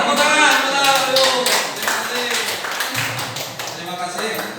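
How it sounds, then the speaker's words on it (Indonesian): Scattered clapping from a small group, brief and fading, with a voice speaking over it. "Ya, tepuk tangan, ayo."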